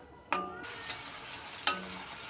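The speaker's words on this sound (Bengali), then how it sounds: "আমরা মিডিয়াম ফ্লেমে একটু ভেজে নেব, যেন লাল না হয়ে যায় সেদিকে খেয়াল রাখতে হবে।" Spices frying lightly in a pan over a medium flame, a soft steady sizzle broken by two sharp clinks of a utensil against the pan.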